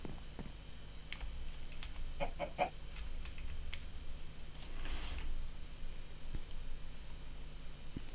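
A chicken in modded Minecraft clucks in a few short, soft bursts over a low steady background hum, with scattered faint clicks and taps around it.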